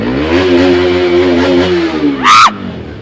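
A Bajaj RS200 sport motorcycle engine holds a loud, close, steady high rev, then a quick throttle blip sends the pitch surging briefly before it drops back.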